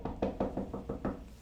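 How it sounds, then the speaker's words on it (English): Knocking on a door: a steady series of about seven firm knocks spaced evenly, close and alone, with no voices. "And she started knocking"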